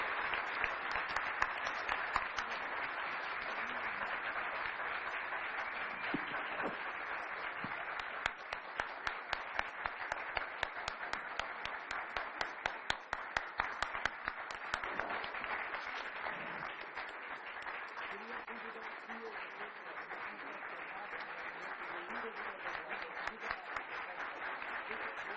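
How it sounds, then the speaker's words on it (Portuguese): Sustained audience applause at a talk on sexual and reproductive rights policy, a long, even wash of many clapping hands with scattered voices and murmurs underneath. "Eu queria uma grande salva de palmas"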